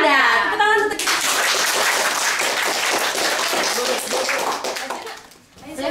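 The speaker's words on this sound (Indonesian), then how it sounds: "Tepuk tangan untuk kita." Sustained clapping from an audience welcoming quiz contestants at a school competition, dense and fairly loud throughout, with a voice heard briefly at the start.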